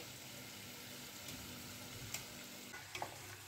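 Raw banana shreds for chivda fry in hot oil over a low flame, giving a soft, even, continuous sizzle with a few faint ticks and pops.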